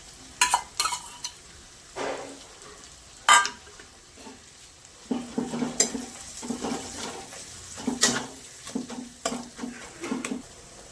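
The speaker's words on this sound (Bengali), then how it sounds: "আদা রসুন একটু ভাজা ভাজা হয়ে গেছে, এবার পেঁয়াজ ভাজার যে পেস্টটা করেছি সেটা দিয়ে দিলাম।" Fried onion paste going into ginger and garlic already frying in a pan for kosha chicken, with spoon scrapes and stirring clatter over a low sizzle, coming in irregular bursts.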